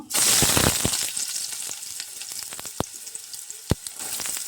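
Onions drop into hot oil in a kadai and sizzle loudly at first, then the frying settles into a softer hiss broken by scattered sharp pops and crackles.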